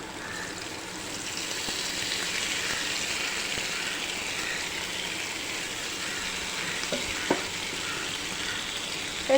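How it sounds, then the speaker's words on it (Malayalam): Squid pieces fry in hot coconut oil with a steady, close sizzle and crackle that continues throughout, broken near the end by a few faint clicks from a utensil in the pan. "കണവ ഫ്രൈ നമുക്ക് എല്ലാം തിരിച്ചിട്ട് കൊടുക്കാം, ഓരോ കഷ്ണങ്ങളായിട്ട്."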